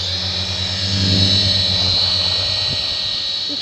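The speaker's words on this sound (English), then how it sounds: "Helicopter flying with this." A small remote-controlled helicopter hovers nearby, its motor and rotor giving a steady high-pitched whine with a low buzzing hum beneath, loud and continuous, with no talking.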